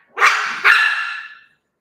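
Dogs bark twice in quick succession, close and loud. The second bark trails off into a short whine before silence.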